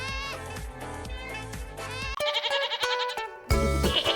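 Sheep bleat repeatedly while grazing in a field in the morning, with several close, loud, wavering calls that overlap and follow one another in quick succession.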